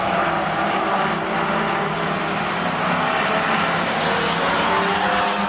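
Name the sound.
race car passing on speedway track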